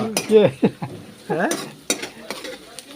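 A spoon scrapes and knocks around a cooking pot in quick irregular strokes as the chicken inside sizzles faintly.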